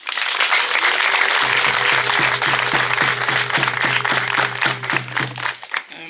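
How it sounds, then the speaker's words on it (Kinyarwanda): An audience at a public community event applauds loudly and steadily, with dense clapping that holds level and then thins near the end. A low rhythmic drum or hum pattern runs beneath the middle of it. "Ndagira ngo twongere tubahe amashyi."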